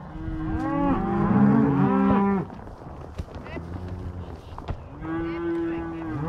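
Several cattle moo loudly and overlapping during a cattle drive on a Montana ranch, long low calls close by, followed by quieter lowing and a couple of faint shouts from a rider herding cows and calves.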